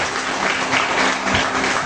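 Worshippers in a church congregation clap their hands in praise, a loud, continuous crowd of claps with a few sharper accents rising out of the dense texture.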